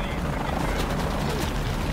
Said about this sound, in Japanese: ああヘリが撃ってきてる。